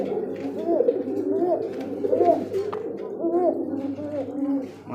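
Pigeons at a pigeon market stall coo repeatedly in soft, rolling calls, several birds overlapping close by, while people talk in the background.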